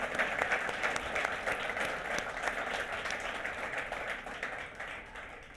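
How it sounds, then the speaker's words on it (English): Audience at the Financial Mail Top Analyst Awards 2024 gala applauds the winners, a dense, steady wash of clapping that holds evenly throughout before a sharp burst right at the end. "I think it's fair to give the winners for part one a big round of applause"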